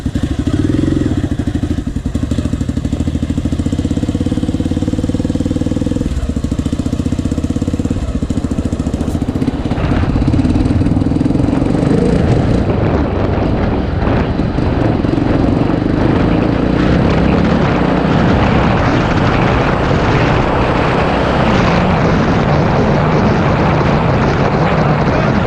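Honda XR 500 motorcycle engine running steadily close by, a loud continuous rumble with a slightly uneven, snatchy character that grows rougher and busier partway through.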